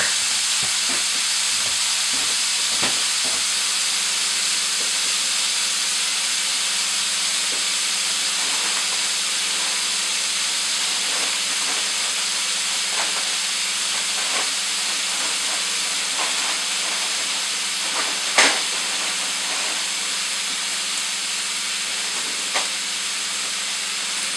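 Vegetables steam and cook in a hot pan, a broad continuous hiss and sizzle that holds steady throughout, close and fairly loud, with a few faint clicks of utensils.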